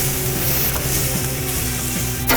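Kangaroo steak brushed with glaze sizzles steadily on a hot grill, a continuous close frying hiss with faint kitchen clatter.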